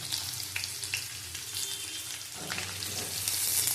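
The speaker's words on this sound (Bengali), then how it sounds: "ভালো করে আবার ভেজে নেবো।" Pieces of pointed gourd (potol) fry in a pan for a pumpkin, potato and chana dal dish, giving a continuous close sizzle and crackle that swells slightly toward the end, with no talking.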